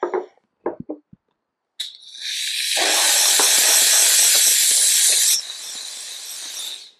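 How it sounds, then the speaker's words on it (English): A Ladybug steam cleaner sprays dry steam vapor onto a labeled surface, a loud close hiss that rises after a few soft clicks, holds steady, then drops to a quieter hiss before cutting off. "remember that this is steam vapor and it's dry steam vapor"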